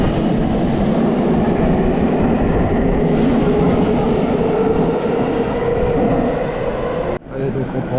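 A Tokyo Metro subway train runs loudly from inside the car, with a steady rumble and rattle of the wheels on the rails, then a sudden drop in the noise near the end.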